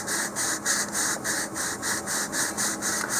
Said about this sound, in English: as I'm getting this sanded down